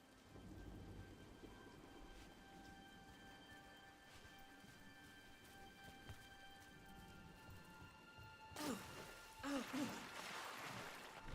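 Steady rain falls in the fantasy game Dragon Age: The Veilguard, a soft continuous patter with low distant rumbling and a steady tonal hum, growing louder toward the end as splashy footsteps or movement join in.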